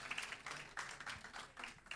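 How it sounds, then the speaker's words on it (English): Audience applause for a speaker at a university management and law faculty research day, a steady patter of many hands clapping through the whole stretch, moderately close with slight swells. "Can you give him a round of applause?"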